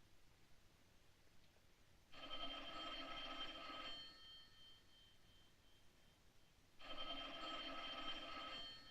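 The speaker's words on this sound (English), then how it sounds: "Answer the phone." An old-fashioned telephone bell rings in two long electric trills separated by a pause, faint and somewhat distant in a quiet room, in a 1940s film scene.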